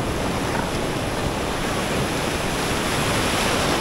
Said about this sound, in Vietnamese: Sóng cao, cuồn cuồn luôn.